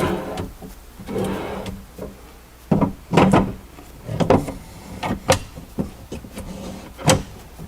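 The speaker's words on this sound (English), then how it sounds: "Close the drawer." Vanity drawer pushed shut along its glides, a run of sharp wooden knocks and thumps with short sliding rustles between them, close and fairly loud with no voices.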